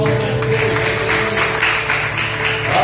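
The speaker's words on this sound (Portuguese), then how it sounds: "Se você crê nisso, aplauda o nome do Senhor." A church congregation claps together in a steady, fairly loud round of applause that fills the hall for a few seconds.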